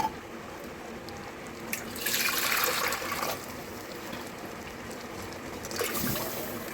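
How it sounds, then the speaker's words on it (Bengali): Water poured into a pot of chaat-style ghugni gives a steady splashing pour for a little over a second, then a softer second splash near the end, with no voices. "আর একটু জল দিয়ে দেবো।"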